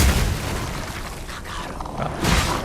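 An enemy bursts in Mortal Shell 2's Mushroom Village, giving a dense, rumbling boom that fills the clip and swells again near the end, loud and close.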